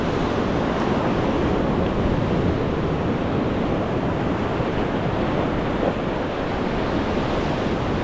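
Big ocean waves at a seaside fishing spot roar as a continuous, loud wash of surf mixed with heavy wind buffeting the microphone, steady for the whole stretch with no voices.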